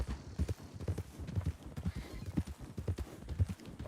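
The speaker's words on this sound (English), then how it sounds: "Wild horses out here as well" Horse hooves clip-clop at a steady, rhythmic walking pace across open ground in the Red Dead Redemption 2 video game, close and fairly soft, with no talk over them.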